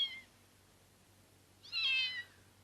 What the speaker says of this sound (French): Miaou, miaou, il en a pas assez de miauler.